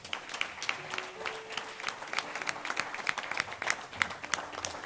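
A congregation at a spiritual retreat claps steadily, a dense, continuous round of applause from many hands filling the room.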